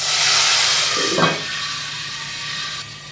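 Water poured into hot oil tempered with cumin, carom seeds, garlic paste and asafoetida for a ganthiya curry, giving a loud burst of steamy hissing that settles into a steadier, softer hiss.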